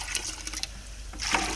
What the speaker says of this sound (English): So we're going to pour some water